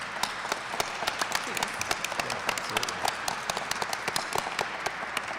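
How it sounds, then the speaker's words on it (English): A conference audience applauds panelists at a career week event, steady clapping from a moderate crowd with sharp individual claps standing out, sustained for several seconds without talk. "Let's please give a real warm round of applause for our fantastic panelists."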